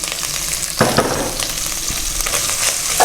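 Chicken pieces sizzle hard as they hit browned garlic in hot oil for an oyster sauce chicken dish. A sharp burst of frying hiss jumps up near the start and then holds as a steady, close crackle, with light stirring knocks.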